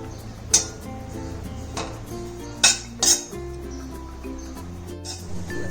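Coconut roasting in a kadhai, stirred with a utensil that clinks sharply against the pan about three times over a low steady background hum.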